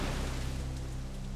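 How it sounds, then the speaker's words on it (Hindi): Heavy rain pours as a steady, dense hiss over a low rumble, continuous and fairly loud, with no voices, set on a dark stormy night. "तेज बारिश होने लगी"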